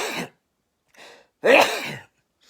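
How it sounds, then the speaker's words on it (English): A person sneezes close by in a short, loud burst, followed by softer breathy gasps, with brief silences between the sounds. "I always laugh when I sneeze."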